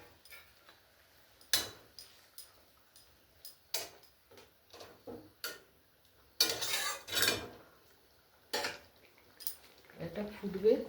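Pieces of rui fish go into a boiling coriander curry in a pan, heard as sharp clinks and taps of a utensil with a brief wet splashy burst midway, under intermittent talk.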